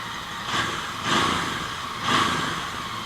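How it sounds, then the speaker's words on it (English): A Harley or Royal Enfield motorcycle engine idles smoothly and steadily, its low hum swelling slightly in a few gentle pulses, nearby and moderately loud, with no talking. "As of now, that's the sound, so it is pretty smooth."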